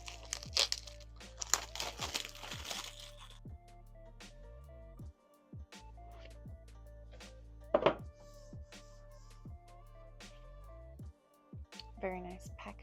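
Packaging crinkles and rustles close by while a JCONLY Epoch machine is unboxed, with scattered thunks and handling noises, a sharp crackle midway and a voice talking over parts of it.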